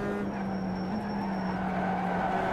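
Race car in the iRacing sim game braking for the final corner after a long straight, a steady loud engine drone with a sustained high tire-squeal tone over it, continuous and close throughout.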